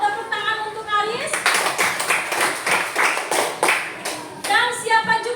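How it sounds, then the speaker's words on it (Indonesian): A classroom bursts into applause for a student, rapid clapping from many hands lasting a few seconds, framed by a teacher's voice speaking before and after. "Tepuk tangan untuk Aris."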